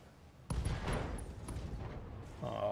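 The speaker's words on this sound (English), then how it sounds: "Scored a critical hit. It's a second explosion." A critical-hit explosion in the BattleTech mech combat game bursts in loudly, then rumbles and crackles for about two seconds before a second tonal swell rises near the end.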